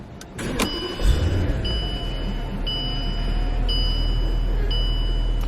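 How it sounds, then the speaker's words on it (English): A key turns and a 2018 Bentley Continental Flying Spur starts with a brief crank, then settles into a loud, steady idle hum, with faint high electronic chimes repeating at regular intervals over the engine. "stick the key in and twist it to start"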